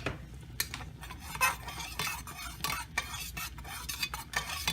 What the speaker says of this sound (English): And now you want to give that a stir.